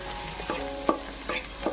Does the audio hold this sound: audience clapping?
no